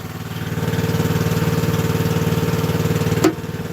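A John Deere 2250 tractor engine runs steadily while a log is processed, a loud close mechanical drone with a regular pulsing throb and a brief sharp knock near the end.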